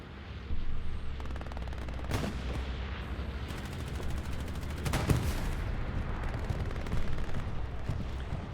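Heavy battlefield gunfire from a German tank in a WWII Omaha Beach battle game, with loud broadband blasts near 2 and 5 seconds over constant rumbling combat noise and scattered shots.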